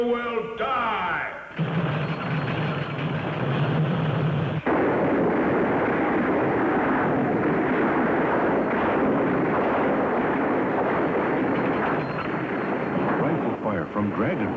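Rifle fire and explosions in an old radio drama Western, a dense, continuous barrage of booming blasts filling the scene at high volume after a brief opening of other effects.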